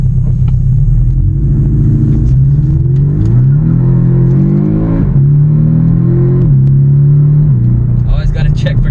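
A 2018 Porsche with a 2-liter turbocharged boxer four engine accelerating hard, its loud droning growl climbing in pitch through several gears with brief dips at each shift.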